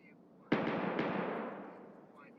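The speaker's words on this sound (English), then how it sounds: "Step on a little landmine." A landmine detonates in Escape from Tarkov, a sudden loud blast followed by a brief secondary crack and a long rumbling decay.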